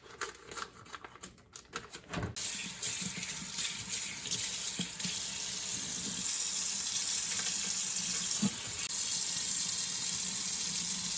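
Tap water runs steadily into a kitchen sink as corned beef is rinsed. A few clattering handling sounds come first, then a close, continuous splashing stream.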